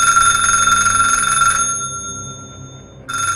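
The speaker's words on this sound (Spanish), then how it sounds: "el teléfono volvió a sonar." A telephone rings loudly with a bright electronic trill, stops for about a second and a half, then starts ringing again over a low background hum.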